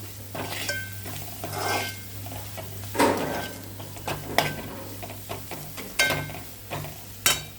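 Turmeric and curry fry in a pan while being stirred, with a low sizzle broken by scraping and clattering strokes of a utensil against the pan, close and moderately loud, without talk.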